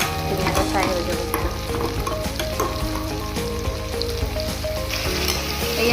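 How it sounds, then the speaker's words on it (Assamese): Tomatoes fry in a pan while being stirred, a steady loud sizzle with scraping stir strokes running throughout, no voices. "এয়া বিলাহীখিনি অলপ ফ্ৰাই হোৱাৰ পিছত মই সৰিয়হখিনি ইয়াতে দি দিলোঁ।"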